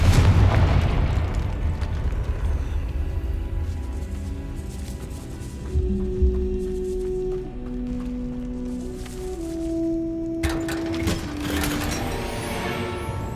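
A Confringo fire spell going off in a video game: a heavy low boom at the start that rumbles away, followed by ringing magical tones and mechanical clatter, with a fresh crackling burst near the end.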